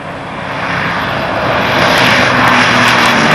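A propeller airplane flown by Bob Hoover makes an aerobatic flypast at the Skyrace 95 air show with landing gear and flaps extended: a loud, close, continuous engine roar that swells slightly stronger partway through.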